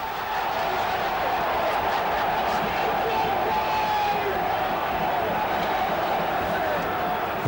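A dense crowd roars continuously at a Chelsea football match, a steady loud wash of cheering and shouting with no breaks, voices blending into a distant mass.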